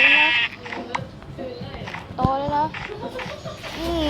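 Sheep bleat in the Minecraft video game as several short wavering cries, mixed with a voice talking over them.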